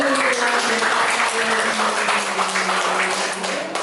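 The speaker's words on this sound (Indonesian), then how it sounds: "Tepuk tangan sekali lagi buat Ozi." Sustained applause from an audience clapping for a young person named Ozi at a gathering, steady and dense throughout with faint voices underneath.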